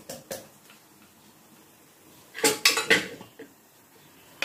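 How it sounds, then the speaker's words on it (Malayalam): Cooked lentils for dal being mashed in a metal pot, with soft scraping at first, then a cluster of sharp clinks and knocks from the utensil against the pot, close by with no talking. "ഇത് പരിപ്പൊക്കെ ഞങ്ങൾ ഉടച്ചു വിടണതാണ്"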